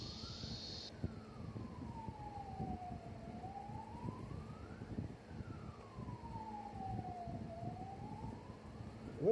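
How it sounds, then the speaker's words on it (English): An emergency vehicle siren in the distance, slowly rising and falling in long wails, faint and steady behind quiet background noise. "This siren sound you're hearing is from my background."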